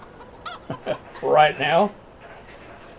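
Chickens clucking inside a chicken house in the farming game Big Fields XXL, a short burst of close squawks following brief speech.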